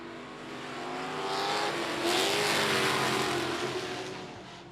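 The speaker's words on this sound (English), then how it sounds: "It's just a heat race, but they're racing it like a main event." Race cars in a heat race at I-37 Speedway roar past, engines swelling from mid-distance to a loud peak then fading slightly, with no talk.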